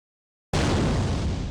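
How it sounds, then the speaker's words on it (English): An explosion in the video game The Newspaper Crew, from a chemistry teacher's classroom, bursting in abruptly after a moment of silence as a dense, loud, sustained roar. "We walk in and there's already an explosion."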